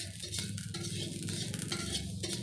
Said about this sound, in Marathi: सर्व पदार्थ कोरडे आणि मंदाचेवर एकसारखं हलवून भाजायचे